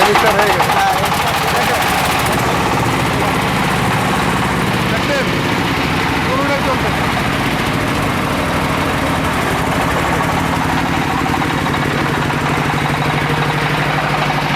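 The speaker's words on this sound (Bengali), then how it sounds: "দুইটা একসাথে স্টার্ট দিয়ে দেখাবো, দেখতে পাচ্ছেন দুইটা মেশিন।" Two 10 kW key-start diesel generators running together, a loud, steady, close engine drone with a dense rattling low throb that continues without a break.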